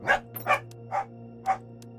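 A dog barks four times in a short, evenly spaced series, each bark sharp and fairly close, with a steady low hum underneath.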